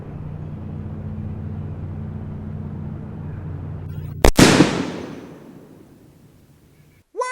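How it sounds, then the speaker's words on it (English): A sealed bottle filled with crystallized Drano bursts in a single sharp, loud blast after several seconds of low steady hum, the roar decaying slowly over about two seconds before a faint voice cuts in. "That was quite an explosion!"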